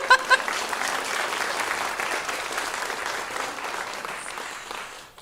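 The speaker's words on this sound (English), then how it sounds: "let's give a third round of applause to Blair" Audience applause for keynote speaker Blair Kaplan at a conference, a dense continuous clatter of many clapping hands that opens with a couple of sharper claps and then holds steady before tapering off at the end.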